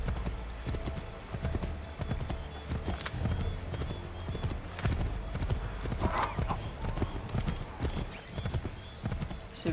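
Horse galloping in the Assassin's Creed 3 video game, with rapid rhythmic clip-clop hoofbeats running throughout, a neigh or whinny partway through, and quieter game ambience behind the close hooves.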